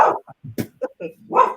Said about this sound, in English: Oh, I hear dog.